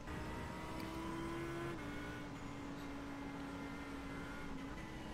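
Audi race car on a track corner, engine droning steadily and close throughout with a shifting tone as the driver works throttle and brake, continuous and loud with no talk.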